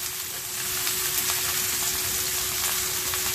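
Pork and tofu rolls sizzle steadily in a frying pan, a close, even hiss of hot oil that runs without pause, no voices over it.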